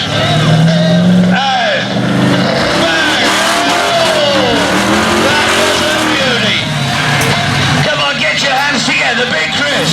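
A stunt car accelerates hard away at an arena daredevil stunt show in Aldershot, its engine roaring loud and continuous with rising revs and tyre noise, while a commentator talks over it.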